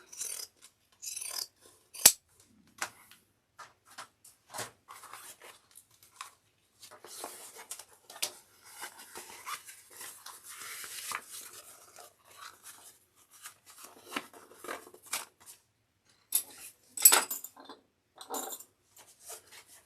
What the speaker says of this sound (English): I'm just going to grab my pinking shears and just paint the sides so I can reduce bulk.